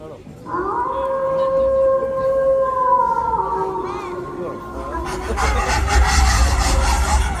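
Stray dogs howling as a sound effect in a stage play, long wavering howls overlapping close and loud, followed by a rumbling burst of noise toward the end.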